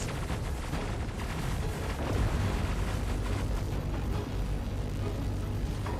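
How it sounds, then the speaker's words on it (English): Point defense cannons firing from an Idris capital ship in Star Citizen, a dense continuous barrage of rumbling booms and rapid bursts, loud and sustained throughout with no talking. "Oh, the PDCs are shooting."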